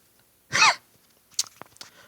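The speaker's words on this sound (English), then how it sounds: "I'm gonna clear my throat right now." A man clears his throat once, a short, loud, rasping burst close to the microphone, followed by a few faint clicks and small mouth sounds.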